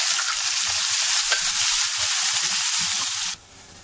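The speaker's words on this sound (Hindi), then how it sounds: "प्याज को हम 5 मिनट के लिए सौटे कर लेंगे लो फ्लेम पर।" Chopped onion sizzling and crackling steadily in a hot pan over a low flame after garlic, a continuous frying hiss with small pops, cutting off abruptly near the end.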